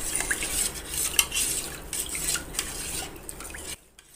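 A spoon stirs and scrapes a colostrum mixture for kharvas around a bowl in quick, uneven clinks and swishes, close and fairly loud, ending abruptly; no speech.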